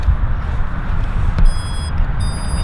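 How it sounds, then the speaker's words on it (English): The electronic speed controller on a JUICI drone beeps as its battery is plugged in, giving two short electronic tones over constant low background rumble and noise. "So you're gonna hear the ESC cycle through. They're gonna beep a couple times."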